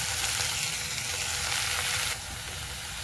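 Green onion paste hits hot oil in a pan while making a stuffed millet flatbread, a loud steady sizzle that drops to a softer hiss partway through.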